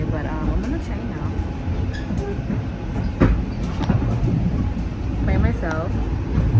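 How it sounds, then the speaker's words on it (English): Steady rumble of a train carriage from inside while riding, with rhythmic wheel clatter and occasional squeals, continuous and close, with a person talking over it. "I'm on the train now"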